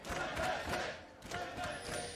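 Esports arena crowd at the MSI 2018 League of Legends group stage, loud rhythmic chanting and cheering from a one-sided audience backing the hometown team, swelling in two waves.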